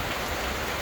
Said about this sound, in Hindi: बारिश लगातार पड़ती जा रही है।